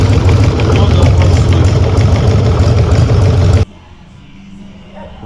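Harley-Davidson Sportster V-twin running loud and steady with a knock from the front cylinder, a dense rumbling drone that cuts off abruptly near the end, leaving quiet background.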